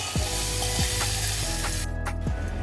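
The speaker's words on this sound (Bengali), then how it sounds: "6 থেকে 7 মিনিট মতো আপনাকে পেঁয়াজটাকে রান্না করে নিতে হবে" Chopped onions cook in a pan with a loud, close sizzle, and a utensil stirs and scrapes them several times in a row.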